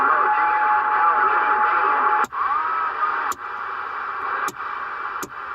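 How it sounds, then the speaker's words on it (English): Steady hiss of CB radio static on an '03 GMC Envoy setup, with faint garbled chatter mixed in and several sharp clicks cutting through the noise at intervals. "Got a lot of noise going on today, a lot of chatter"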